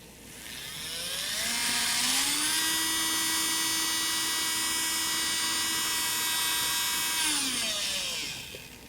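A Madenia electric nail file drill running in reverse spins up to a high whine, holds a steady pitched hum, then winds down, close and alone.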